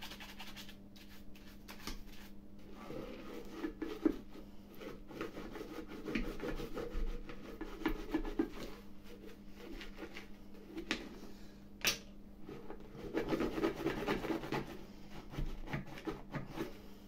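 Irregular scrubbing and rubbing strokes clean the inside of a surface at close range, soft scratchy bursts with a faint steady hum beneath, and no talking.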